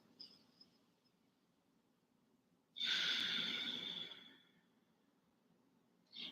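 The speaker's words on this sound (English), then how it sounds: "And we return to normal breathing through both nostrils." During a yin yoga session, one long, even breath through both nostrils swells up close and clear in a quiet room, then fades back to near silence.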